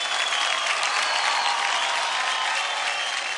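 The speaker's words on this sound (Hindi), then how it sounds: "जोरदार तालियां हो जाए" Applause from a television dance competition audience fills the hall, a dense and steady roar of many hands clapping that stays loud throughout with no voices on top.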